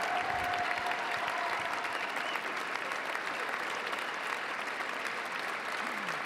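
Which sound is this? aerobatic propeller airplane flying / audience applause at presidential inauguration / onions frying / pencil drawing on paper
audience applause at presidential inauguration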